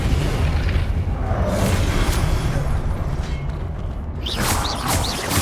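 Confringo blasting-curse explosions in Hogwarts Legacy, loud booming bursts and crackling magical blasts that run continuously, with a few bright whooshing spell sounds near the end.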